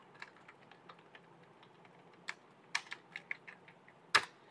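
Close computer keyboard typing as a folder name is entered, light scattered key clicks with a few sharper, louder strokes near the end over quiet room hiss.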